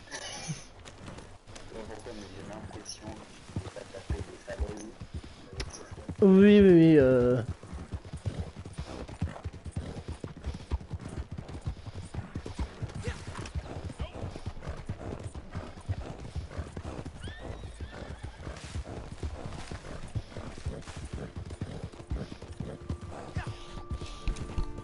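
Horse hooves clip-clopping steadily in the Red Dead Redemption 2 video game, a rapid, even gait heard throughout at moderate loudness, with a brief neigh near the start.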